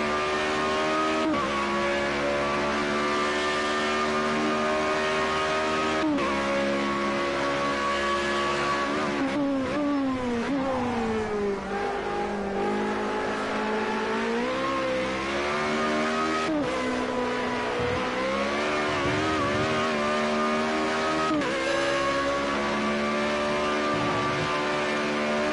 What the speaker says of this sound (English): This practice is more to get into the rhythm of driving that car on this racetrack.